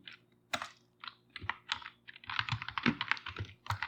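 Irregular keystrokes on a computer keyboard during a scripting lesson, a quick run of crisp, close clicks with brief pauses between bursts over a low steady hum.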